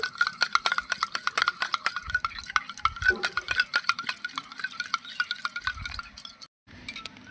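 A spoon stirring a mixture in a pot while making rasgulla gives steady scraping and clinking strokes, close and moderately loud, continuing with no voice and a brief break near the end.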